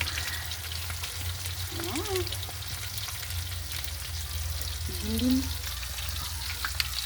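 Breaded shrimp fry in a pan with a steady soft sizzle and crackle, and brief voice-like sounds rise over the frying twice.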